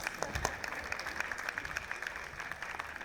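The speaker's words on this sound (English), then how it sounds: "Please clap your hands for them." An audience at a banking conference stage claps in a fairly quiet, steady patter with a few sharper, louder claps near the start.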